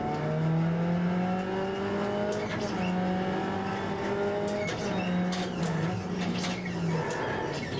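Skippy race car in iRacing at Spa during an online league fun race, its engine droning steadily with rising and falling harmonic whine as it accelerates and shifts, continuous and close throughout.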